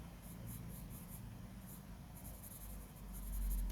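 Graphite pencil shading on paper, a steady soft scratchy rasp of the lead rubbing back and forth, close and fairly quiet with no voices.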